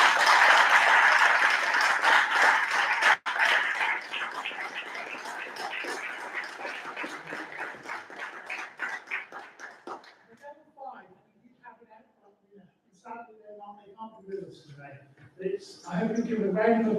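Applause from a community governance graduation audience fills the first ten seconds, dense and fairly loud, then fades into scattered sounds as a voice begins speaking.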